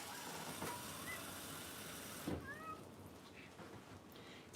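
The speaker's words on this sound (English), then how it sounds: "I hear your kitty cat outside. She needs to be fed." A domestic cat meows outdoors, a couple of faint, distant calls under the steady hum of an indoor kitchen during cooking.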